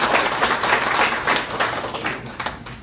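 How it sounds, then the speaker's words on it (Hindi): An audience at a DXN training session in a Dammam hotel breaks into applause, a dense burst of clapping from a room of people that holds steady for a few seconds and then begins to thin. "जिसके पास प्रोस्पेक्ट रजिस्टर है उनके लिए बाकी लोग एक तालियां दे दो।"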